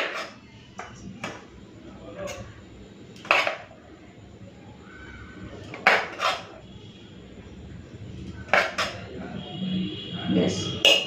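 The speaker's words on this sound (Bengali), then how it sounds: "চলুন এরপর ভাতটা বেড়ে নিই।" Rice served onto a plate beside banana-blossom ghonto, amra chutney and sliced cucumber: scattered scraping and clinking strikes with a few louder knocks, close by over a soft low background, with no speech.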